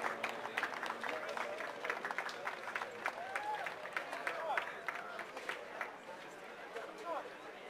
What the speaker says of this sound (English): Applause for India Troop and First Sergeant Brown